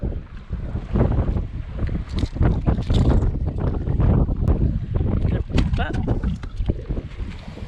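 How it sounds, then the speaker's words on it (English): Wind and waves on open saltwater from a small fishing boat, with steady wind buffeting the microphone, choppy water slapping the hull and occasional voices underneath. "Wind's up, waves are up"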